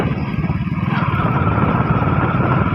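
A motorcycle rides along an unpaved dirt road past farm fields, its engine a loud steady drone close by with continuous rumbling throughout.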